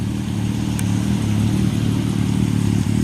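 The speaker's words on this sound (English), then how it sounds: "That's Trooper car 4871." A state trooper patrol car's engine hums low and steady as it drives by, a close, constant rumble with a faint clatter and no talking.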